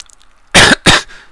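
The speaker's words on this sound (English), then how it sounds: "sorry about the cough there" Two sharp, loud coughs in quick succession, close to the microphone, followed by silence.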